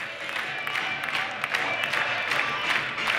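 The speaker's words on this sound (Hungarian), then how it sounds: "1200 ember felállva tapsol, kérem szépen itt a városi sportcsarnokban" Applause from a standing crowd of about 1200 fills a city sports hall at a volleyball match, a steady dense wash of clapping and crowd noise lasting throughout, with broadcast commentary-style ambience underneath.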